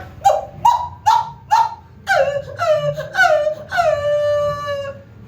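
A voice imitates a dog barking: a quick run of sharp, rhythmic woofs that stretches into a longer howl-like call, loud and close, with a low murmur of background noise underneath.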